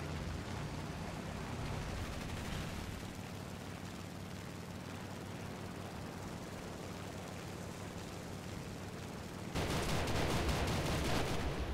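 Aircraft cannon fire in War Thunder from a new German plane, heard as a dense, loud roar of engine and gunfire throughout, swelling into a harsher, heavier burst near the end.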